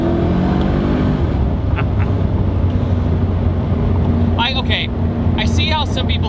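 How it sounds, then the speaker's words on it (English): Mercedes-McLaren SLR engine from around 2006 rumbles steadily and loudly in the cabin while driving, with a constant low drone, wind noise, and people talking over it. "it makes a good sound. It really does. I mean, that is a great motor."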